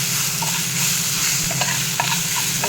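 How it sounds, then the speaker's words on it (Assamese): Onions fry in a pan of oil left over from frying fish, giving a steady, close, dense sizzle with a few light stirring clinks and scrapes, and no talking. "মাছ ভজা তেলতে পিঁয়াজখিনি দি দিছোঁ"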